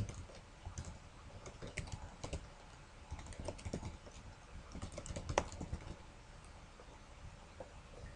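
Computer keyboard typing with scattered mouse clicks while data is entered into an online form, a steady run of quiet, close keystrokes with occasional sharper taps, no speech.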